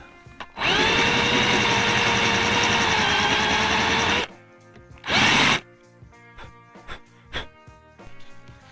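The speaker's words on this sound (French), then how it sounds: "Une mèche de la taille de ma tête." A power drill fitted with a very large bit, used on a hi-hat stand repair, whines loudly at a steady pitch for several seconds, stops, then gives one short burst, followed by faint clicks and handling noises.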